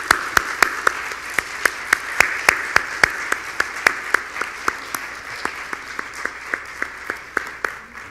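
Audience applause after a lecture on disputes over possession of the Indies, scattered sharp claps ringing out close and fairly loud over a softer crowd patter that slowly thins and fades over about eight seconds.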